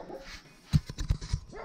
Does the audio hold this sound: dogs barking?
yes